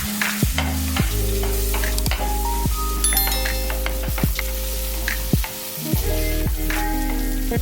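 Shallots sautéing in a pan for chicken uppu curry, a steady close sizzle with frequent stirring scrapes and clinks of a spoon against the pan throughout, no voices.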